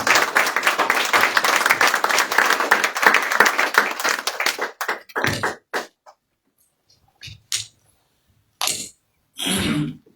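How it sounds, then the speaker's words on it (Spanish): A church congregation claps hands in praise, a dense, loud, continuous run of applause for several seconds, then fading into a few scattered bursts of clapping separated by silence. "Dele palmas al Cristo"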